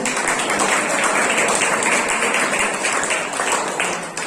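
A church congregation claps during a Tamil sermon, dense continuous applause held at a steady loud level for several seconds before easing off slightly at the end.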